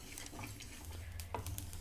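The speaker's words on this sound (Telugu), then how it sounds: "ఆవాలండి 3 స్పూన్లు, ఇవి కొంచెం దోరగా వేయించుకోవాలి" Mustard seeds roasting in a hot pan for curry leaf pickle, a soft continuous crackle and light sizzle with faint stirring scrapes, close and steady, no voices.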